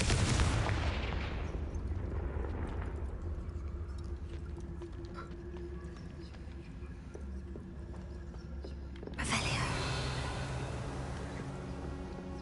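A Confringo blasting spell in Hogwarts Legacy opens with a strong booming burst, then game ambience with faint hoof-like clopping, and a second blast-like surge near the end.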